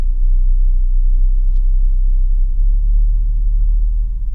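A Mahindra Thar Roxx engine works up an off-road climb, producing a steady, close, heavy low rumble that holds even throughout with no clear rise in revs.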